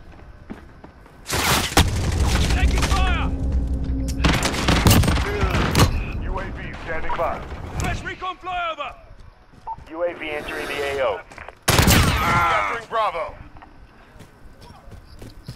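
Call of Duty: Modern Warfare firefight with loud bursts of automatic gunfire and heavy booms in several sharp clusters, between stretches of clipped radio-style voices and battlefield chatter.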